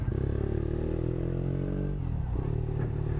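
A Triumph Bonneville ridden on a freshly fitted Michelin Pilot Active tyre, its engine droning loud and steady with a brief dip in revs partway through, under rushing wind noise.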